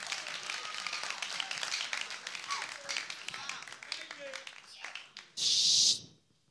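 A comedy-show crowd gives sustained applause with cheers and whoops mixed in, moderately loud and steady, then a short harsh burst of noise before it cuts to quiet.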